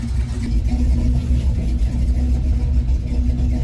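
A car engine running loudly up close as the car drives off, a dense low rumble holding steady throughout with slight swells, no clear gear changes.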